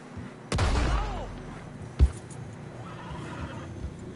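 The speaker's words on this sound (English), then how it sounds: "Horses are struggling." A horse in the video game Red Dead Redemption 2, struggling through deep fresh snow, whinnies loudly with a wavering, descending call, followed by a sharp thud and quieter background movement.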